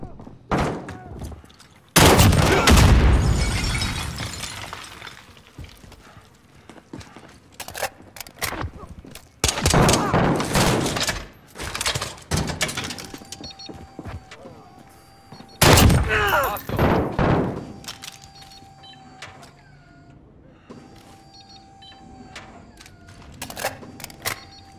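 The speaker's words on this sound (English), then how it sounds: "Sentry gun on station." Automated sentry gun firing in Call of Duty Modern Warfare, heard as loud bursts of rapid gunfire in several clusters separated by short pauses, with thuds and game ambience between the volleys.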